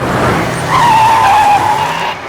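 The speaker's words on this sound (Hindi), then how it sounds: "रोको गाड़ी!" A car skids hard to a stop with a loud, sustained tire squeal lasting about a second, heard close and alone.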